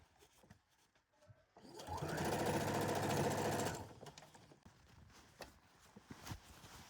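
Sewing machine stitching a jacket lining, a close, loud burst of rapid mechanical whirring lasting about two seconds, framed by quiet handling clicks and rustles before and after.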